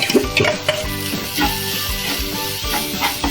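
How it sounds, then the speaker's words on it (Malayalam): Chopped banana flower dropped into a hot pan with dried red chilli and curry leaves, loud crackling sizzle with scraping stirring strokes in an uneven rhythm, close and continuous. "കൂമ്പ് തോരൻ ഇടുകയാണ്"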